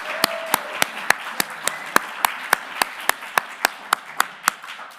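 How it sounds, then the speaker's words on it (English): A university business pitch competition audience applauds its competitors, steady dense clapping with sharp individual hand claps standing out in a regular run, sustained across the whole stretch in a large room. "how about another round of applause for all of our competitors tonight"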